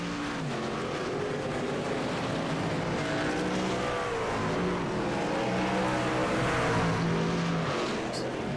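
Race trucks circle Lime Rock in the iRacing game with a continuous, loud engine drone. Revs rise and fall as the pack pushes through the laps, with a commentator talking underneath.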